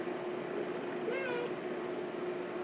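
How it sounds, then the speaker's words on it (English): A pet cat gives a single short meow, faint against a steady low hum of background noise, while a person talks nearby. "as I pet my cat"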